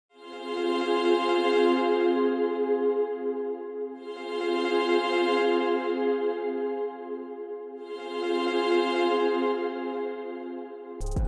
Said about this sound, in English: I found this pad. Sounds like this.